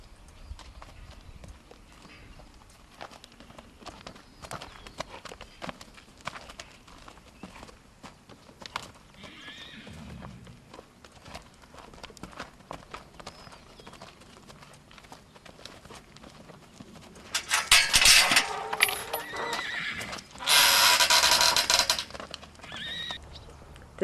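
A young Foxtrotter filly on a farm, with hooves clip-clopping and light footfalls through most of the stretch, then two loud, close, drawn-out neighs near the end.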